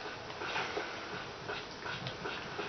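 Dogs whimper and whine in Tomb Raider 3 in the Antarctica level, a continuous run of soft, close, plaintive cries with no talk over them.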